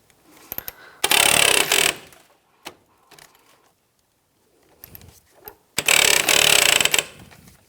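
Bolt loosened with a 10mm socket on a 2004-2009 Toyota Prius during radiator fan work: two loud bursts of rapid ratchet clicking, separated by a few scattered metallic taps and quieter stretches.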